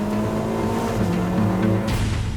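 A Ferrari California T's dual-clutch gearbox downshifts, the engine note stepping through brief quick gear changes with a rising blip near the end, heard close and fairly loud without talk.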